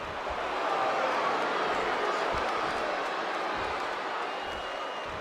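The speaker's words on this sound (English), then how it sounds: "And this crowd really not liking it." A wrestling arena crowd in a WWE 2K match voicing disapproval, a broad steady roar of many voices with no distinct claps or cheers standing out, moderately loud and continuous.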